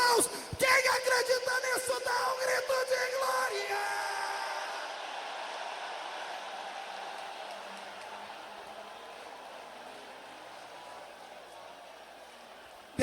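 A church congregation at an evangelical service shouts and cheers in a loud burst of massed yelling and whoops that swells at the start, then fades over several seconds into a lingering murmur.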